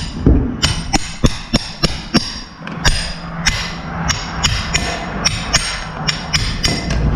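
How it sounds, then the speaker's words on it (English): A farrier cuts the bent-over nail clinches off a draft horse's hoof, striking the clinch cutter repeatedly. Loud, close metallic hammer blows come in an uneven, steady rhythm over low background noise. No speech. "I was just cutting the clinches off."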